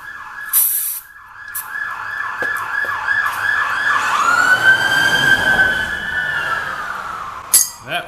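A sheriff's department vehicle passes with its siren wailing, rapid yelping cycles giving way to a long rising-falling wail that swells close by and then fades, ending with a brief clatter.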